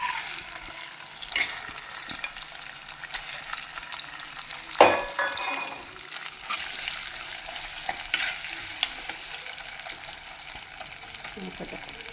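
Grated coconut frying in melted ghee gives a soft, steady sizzle with occasional stirring scrapes and one sharp clatter, fairly quiet and close.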